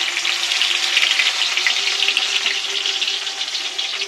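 Hilsa fish paturi wrapped in banana leaf fries in hot oil with a loud, steady, close hiss and sizzle that holds without a break.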